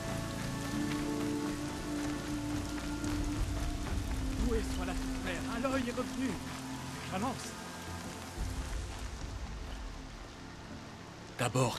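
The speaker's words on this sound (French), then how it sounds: "Oh là là, mais il pleut des cordes." Heavy rain in the video game Horizon Zero Dawn pours steadily throughout, with a voice speaking over the downpour and a brief louder knock near the end.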